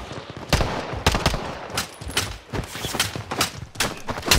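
Rapid video game gunfire, dense bursts of sharp shots fired in quick irregular volleys, loud and close, continuing throughout without talk.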